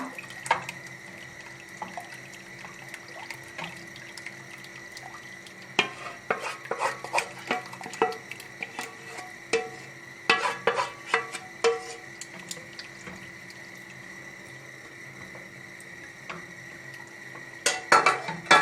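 A spoon stirs a flour roux, toasted in butter and oil, in a pot, giving scattered scraping and clinking taps that bunch into busy bursts over a steady background hum, with no talking.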